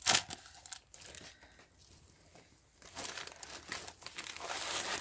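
A plastic shopping bag is crinkled and rustled close by, a sharp crackle at the start, quieter handling through the middle, then louder rustling toward the end, with no talking.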